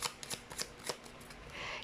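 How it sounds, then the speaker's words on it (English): Close, quiet shuffling of a deck of tarot cards, several quick riffling bursts followed by a softer continuous rustle, with no one speaking. "You saw me shuffle."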